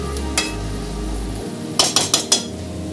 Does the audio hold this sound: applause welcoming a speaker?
no